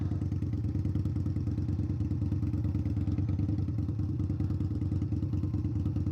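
A custom-tuned Indian Scout Bobber motorcycle engine runs steadily while riding, a loud, continuous low rumble with a throbbing pulse and faint mechanical clatter, no voices.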